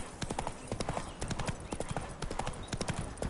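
A horse gallops in The Witcher 3 video game, producing rapid, evenly paced clip-clop hoofbeats that are close and moderately loud, continuing without pause.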